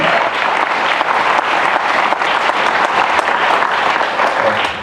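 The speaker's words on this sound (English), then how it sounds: "You can applaud that." Audience applauding at a college talk, steady dense clapping throughout at a moderate distance, with no voices over it.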